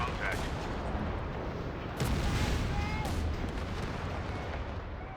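Anti-aircraft flak from an 88 gun in the strategy game Company of Heroes 3 on the Pachino map, a dense, continuous barrage of booming bursts and crackling gunfire layered over rumbling battle noise, with a louder surge partway through.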